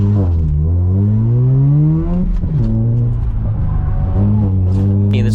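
A car accelerates hard on an autocross course, its engine climbing through revs and dropping at gear changes, loud and close throughout like an in-car recording.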